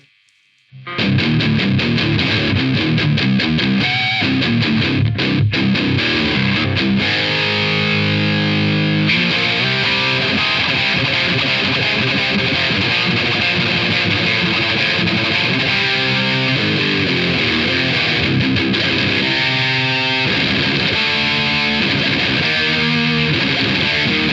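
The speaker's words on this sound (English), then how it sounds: "it reacts really nicely to the actual distortion" Electric guitar played through a Joyo Taichi distortion pedal, loud and continuous with thick saturated chords and riffs ringing for the whole stretch, no voice over it.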